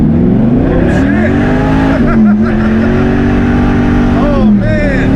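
A 1969 Chevrolet Chevelle SS accelerating hard, heard from inside the cabin as a loud, continuous engine roar with pitch rising and shifting over several seconds, with people talking over it.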